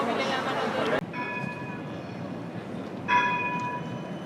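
Tram at Amsterdam Central station, with tonal ringing bell-like tones sustained twice over a busy station hubbub of voices and rumble.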